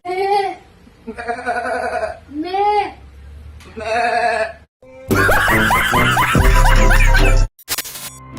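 A goat bleats loudly and close in several wavering calls, followed by a burst of noisy shrieking and laughter-like sounds.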